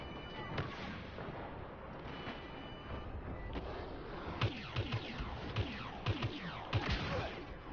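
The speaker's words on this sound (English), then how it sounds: "Ooh, sniper shot." Gunfire from a sniper rifle and other weapons in a shooter video game, a sharp crack standing out among repeated booming shots and explosions over a constant dense battle din, with no talk.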